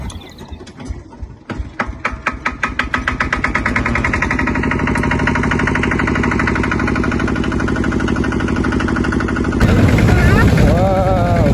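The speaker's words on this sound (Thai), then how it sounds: "ว้าวขี่รถไถ" A tractor engine chugs in fast, rhythmic pulses while being ridden on a road in Thongmixai, Xayaboury, Laos. It speeds up into a loud, continuous close drone that grows louder near the end.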